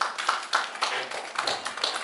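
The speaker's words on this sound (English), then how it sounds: "round of applause for them too." Applause for female journalists at a Mrs. India Queens pageant press conference: steady hall clapping for about two seconds, loud and close, with repeated hand-claps and no voices.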